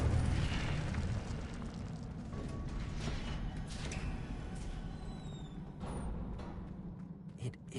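Incendio fire spell blast in Hogwarts Legacy, a low rumbling whoosh of flame that stays steady and fairly faint across the whole stretch, with a few brief crackling bursts.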